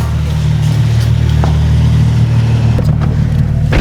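A Nissan 370Z rolls into a home garage, its engine holding a steady, loud low drone close by for several seconds with only slight changes in pitch.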